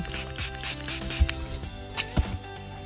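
Water sprays in several short hissing bursts as an old coin found in a forest with an Equinox 900 metal detector is rinsed by hand. Clicks and a few clunks follow the bursts.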